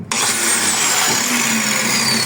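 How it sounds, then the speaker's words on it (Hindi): Angle grinder cutting through a rear bumper bolt on an old Toyota Crown, giving a loud, steady high-pitched whine with a broad hiss that stays continuous after a brief start. "अब ये ग्राइंडर है, ग्राइंडर एक हाथ से नहीं चल सकता, इसको दोनों हाथों से चलाना होता है।"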